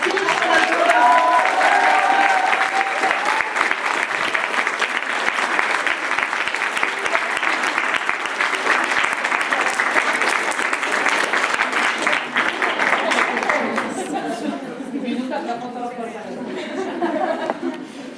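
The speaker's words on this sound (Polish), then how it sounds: "Wielkie brawa" An audience at a nativity play festival prize-giving breaks into sustained applause, dense and steady for many seconds, with chatter and a few chuckles rising as the clapping thins toward the end.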